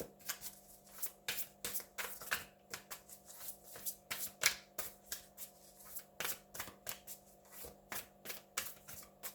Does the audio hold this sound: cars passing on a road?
no